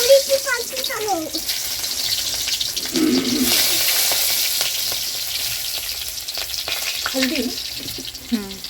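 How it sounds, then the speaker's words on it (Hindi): Hot oil sizzles and crackles steadily as fenugreek, curry leaves and chillies are tempered, with a brief voice and some clinking of utensils near the start and end. "मेथी, करी पत्ता, मिर्च से तड़का लगा देते हैं"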